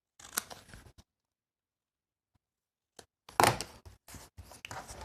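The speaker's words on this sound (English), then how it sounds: "Cut the excess off." Scissors cut off excess material up close: a short run of snips, then a long silent gap, then a louder cluster of sharp crunchy cuts.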